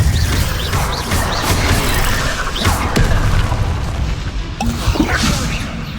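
Bombarda explosion spells in the Hogwarts Legacy video game amid a chaotic fight, rumbling booms, mechanical clanks and whooshes layered into a loud, continuous wash of battle noise.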